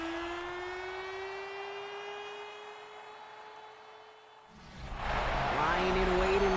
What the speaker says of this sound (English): The Cardinals listening to the sound of their signature Big Red Siren, which signals an air raid